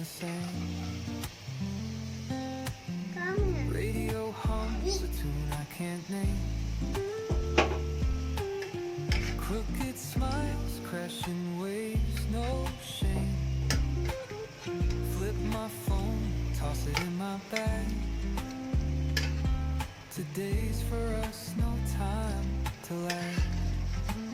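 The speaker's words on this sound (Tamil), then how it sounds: "இப்போ மட்டன் நம்ம நல்லா கிண்டி விட்டு குறைப்போம்" Boiled mutton being stirred in a pan for biryani, steady scraping and sizzling close by throughout, with repeated clinks of the spoon against the pan and a continuous background tune.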